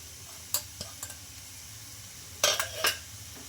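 A spoon scrapes and stirs grated boiled egg through fried masala in a pan, giving a few short clinks and scrapes over a faint sizzle, close and alone.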